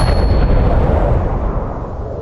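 In the space-survival game Breathedge, a weapon fires at the armored locking mechanism of an airlock, giving a single heavy booming blast that rumbles and fades over about two seconds.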